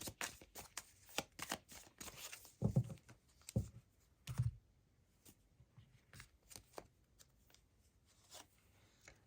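Tarot cards being shuffled by hand, a run of soft, crisp riffling and tapping bursts that come close and fairly quiet, with heavier thumps of the deck near the start and no talk.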